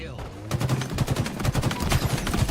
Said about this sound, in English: You can hear gunfire underneath him.